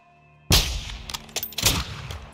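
Rifle shots ring out in the Call of Duty MW2 campaign, a sharp loud report followed by a few more scattered cracks over a couple of seconds with no talking.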